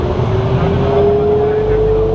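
A Ferrari drives past at a sunset GT car show, its engine a loud, close, steady drone that rises slightly in pitch, with people talking nearby.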